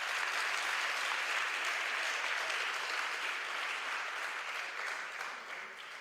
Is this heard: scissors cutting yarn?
no